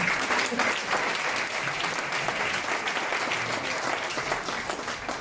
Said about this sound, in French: je pensais qu'on allait acclamer les gens ici